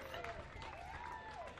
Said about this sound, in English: The crowd now giving them another big cheerio